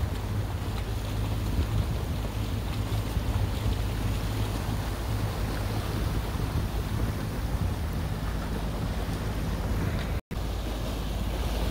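A boat running across open ocean water between Key Biscayne and Key Largo, a steady loud rush of wind and hull noise with churning water and no breaks.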